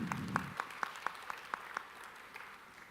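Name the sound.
audience applause at workshop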